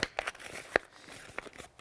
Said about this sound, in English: I've got a square which is 15 centimetres square, and I'm just going to crumple it up